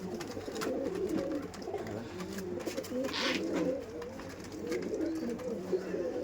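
Punjabi pigeons in a loft coo in soft, repeated low throaty calls over a faint background murmur, close and fairly quiet.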